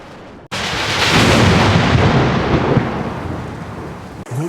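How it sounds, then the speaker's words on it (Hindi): A loud thunderstorm rumble in a children's cartoon story about a sea storm, a sudden heavy burst of deep crashing noise that rolls on and slowly fades, with a fresh crack starting near the end. "लेकिन तूफान उसे चारों ओर से घेरने लगा।"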